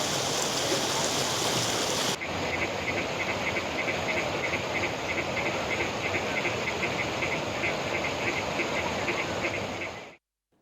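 Water rushes out through the sluice gate of a newly built, brim-full check dam at Abigiri Pattarai after heavy rain. The roar is loud, steady and continuous, with insects chirping faintly, until it stops abruptly at the end.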